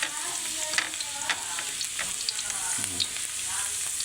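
Garlic sizzles in a pan for lechon paksiw, a steady close frying hiss with scattered crackles and the scrape of stirring throughout.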